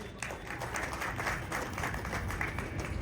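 A crowd at a memorial tribute gathering in Kanpur claps steadily for a speaker, a continuous wash of hand claps at moderate distance with no voices over it.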